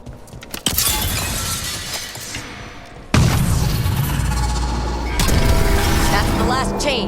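The last chain breaks in Dragon Age: The Veilguard: sharp shattering crashes with glassy debris, then a heavy boom that opens into a loud, sustained rumble and a further crash near the end.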